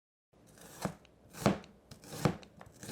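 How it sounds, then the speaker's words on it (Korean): A knife slices an onion on a cutting board with four distinct, crisp chops spaced roughly half a second apart, close and clear with no talking. "양파부터 썰어보자. 이쁘게 슬라이스 해준다."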